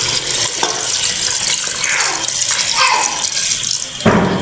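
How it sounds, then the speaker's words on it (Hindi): Water pours steadily into a pot of chicken feet curry to make gravy, a continuous close splashing and gurgling rush that runs alone for about four seconds. "अब हम इसके अंदर ग्रेवी के लिए पानी डाल रहे हैं"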